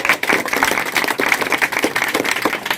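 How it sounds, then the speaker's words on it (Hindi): Loud, sustained applause from an audience at a children's school prize-giving ceremony, dense steady clapping filling the space without a break. "इसके लिए जोरदार ताली के लिए"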